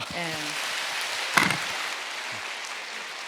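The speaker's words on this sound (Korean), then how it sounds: "와, 아유 다시 한번 박수로" A church congregation claps in a dense, steady patter. A voice speaks briefly at the start.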